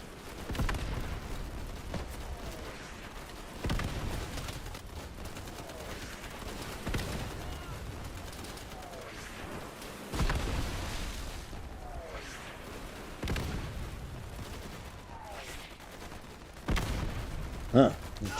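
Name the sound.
gunfire in the video game Easy Red 2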